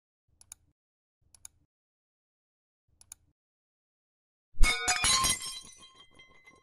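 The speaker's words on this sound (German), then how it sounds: "Ich habe aus Versehen den Teller zerbrochen." A ceramic plate breaks: after a few faint ticks in near silence, one sharp crash of shattering pieces rings out loudly, then tinkling fragments settle and die away.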